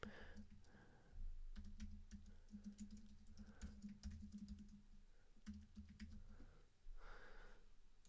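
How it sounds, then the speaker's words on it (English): A name is tapped out on a computer keyboard in quick, uneven bursts of soft keystroke clicks, recorded close and quiet with small pauses between the runs. "So here I have to type in the channel name."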